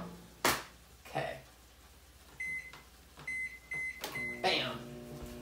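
A microwave oven hums quietly while someone makes sharp clicks and bumps nearby, then a run of short electronic beeps sounds from the keypad as buttons are pressed.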